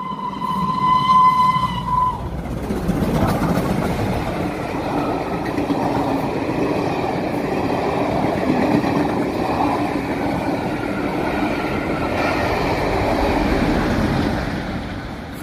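The steam locomotive Mayflower, hauling a Steam Dreams railtour, passes Martins Heron. A brief tonal whistle sounds first, then a long, steady rumble of the engine and rolling carriages holds at even loudness, with no voices.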